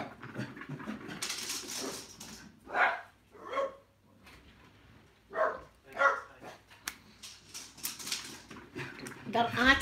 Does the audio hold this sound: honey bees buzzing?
no